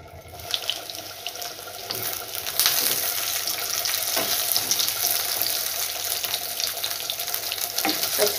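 Steady hissing and crackling of potatoes frying in hot mustard oil, continuous and fairly close, with occasional light clatter and no voices.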